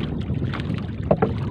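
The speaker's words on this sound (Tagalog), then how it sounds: "medyo mahangin" Wind buffets the microphone on a small fishing boat at sea off Eastern Samar, a low, continuous rumble with a few faint knocks and splashes near the end.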